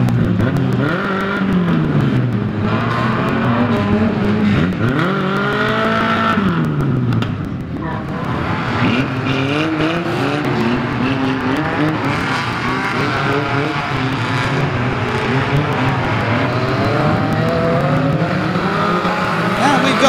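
Stock cars racing around an oval track at a Mildenhall event, engines roaring and rising and falling in pitch as cars pass close by, continuous throughout, with a commentator talking over it.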